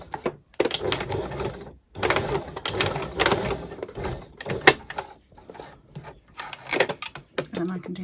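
A sewing machine stitches across bulky layers of fabric in several short bursts of rapid mechanical whirring separated by pauses and handling clatter, with a person talking in between.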